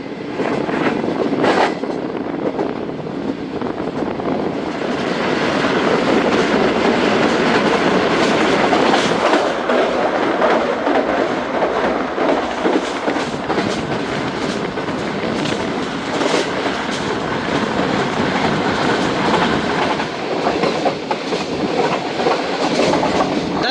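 The Karachi Express train rumbles along steadily on the tracks between Multan and Lahore, loud and close, with a continuous clickety-clack rhythm and some rattling throughout.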